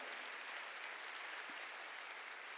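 A church congregation at a New Year's Eve worship service keeps up steady, dense applause, many hands clapping at an even loudness for a few seconds.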